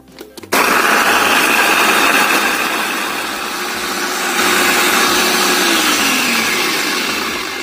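Kitchen blender grinding fresh chilies, turmeric and candlenuts with a little water, a loud steady whirring motor that starts abruptly and runs continuously, pitch dipping slightly midway as the paste smooths.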